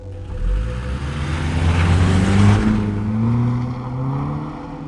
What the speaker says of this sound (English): I put in reverse gear, fly over the bumps, howling the engine.